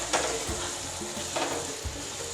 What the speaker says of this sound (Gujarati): હવે આ ડુંગળીના પલને આપણે એક મિનિટ સુધી આમાં તેલમાં સતરાવા દઈશું